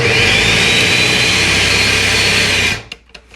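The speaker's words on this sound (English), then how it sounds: "So I'm going to close my blender." A blender whirs at full power while blending a thick strawberry salad dressing with sugared strawberries and vinegar, a loud, steady motor drone heard close that cuts off abruptly near the end, leaving a few faint clicks.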